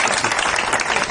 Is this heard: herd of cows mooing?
no